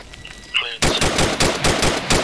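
Rapid automatic gunfire bursts in the Arma 3 video game, close and loud, a steady stream of sharp shots that begins abruptly after a brief quieter moment.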